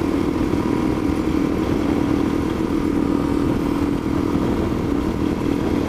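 A group of KTM motorcycles rides past on an off-highway trail near a mountain ghost town, engines droning steadily and loudly throughout with no talk.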